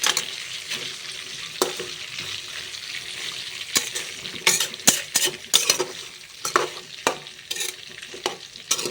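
Stuffed brinjals stirred in a frying pan, oil sizzling steadily beneath a run of quick, irregular spatula scrapes and clinks against the pan that grow busier toward the end, close up with no talking.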